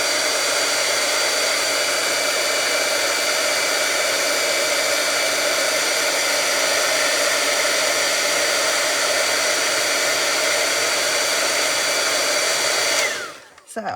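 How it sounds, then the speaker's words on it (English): Heat tool blowing steadily to melt embossing powder, a loud continuous whooshing roar for about fourteen seconds that cuts off at the end, with no talking. "and just heat emboss this."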